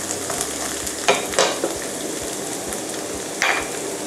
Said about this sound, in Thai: พอผัดมาเดี๋ยวมันก็จะความร้อนก็จะทำให้ตัวลูกเกดเนี่ยตึงขึ้นมานะครับ